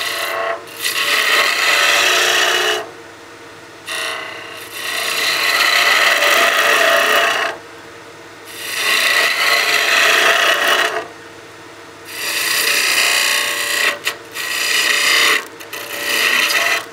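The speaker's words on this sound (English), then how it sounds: "I'm getting bevel contact first and then lifting the handle to engage the cut." A skew chisel cuts wood on a lathe while turning a birdhouse ornament, with four long rasping shaving passes separated by brief pauses, close and loud.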